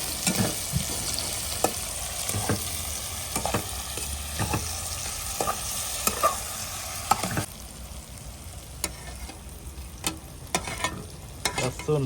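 Tomatoes and garlic sizzle steadily while being stirred in a pan for an Agri-style liver masala cooked outdoors by a creek, with repeated clinks of the spoon against the pan over a continuous frying hiss.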